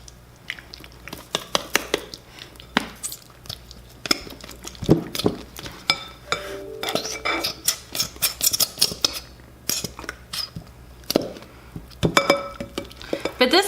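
Slime from an Elmer's slime kit is stirred in a bowl as it stiffens, making wet squishing and clinking scrapes in irregular bursts while people talk quietly nearby.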